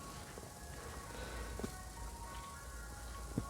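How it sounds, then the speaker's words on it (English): A faint, distant ice cream van chime tinkles its melody over low outdoor rumble, with a couple of soft knocks nearby. "Ice cream van."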